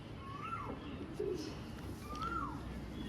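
Pigeon with a wheat-coloured beak cooing softly twice over faint background hiss, close but quiet.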